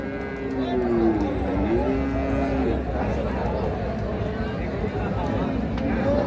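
A medium-sized bull at a rural cattle market gives a drawn-out moo, heard over constant crowd chatter and nearby talk.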